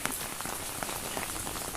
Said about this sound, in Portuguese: O granizo voltou a aparecer e com força